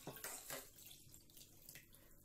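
Water runs into a glass in a short steady pour, measuring about 200 milliliters for a glowing-snow experiment, close and clear with no talking.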